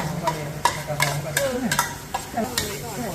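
Shallots fry in hot oil in a pan, giving a steady close sizzle broken by repeated sharp scraping strokes of a spatula stirring every half second or so, with no talk.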